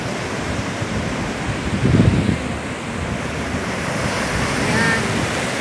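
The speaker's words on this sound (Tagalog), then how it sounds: "Lakas ng alon." Strong sea waves break and wash along Sliema beach in Malta at night. The surf is a loud, continuous roar with wind buffeting the microphone and a slightly louder surge near the start.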